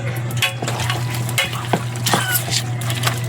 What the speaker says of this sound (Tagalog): Tapos, suka. Po, maraming suka. Tapos, i-mix po natin yan.